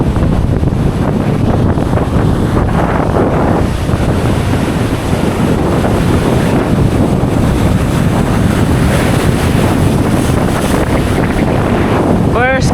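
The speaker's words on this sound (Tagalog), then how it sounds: "Lakas talaga ng hangin" Strong wind while fishing from the shore roars steadily into the microphone for the whole stretch, a loud, constant buffeting rush with a watery wash beneath it.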